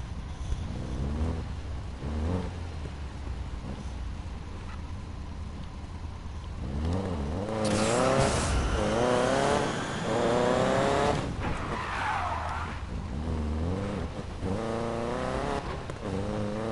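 A car being driven in Need for Speed Payback, its engine revving and shifting through gears, rising to a loud, sustained roar with tire squeals and skidding midway, continuous and close with no talk.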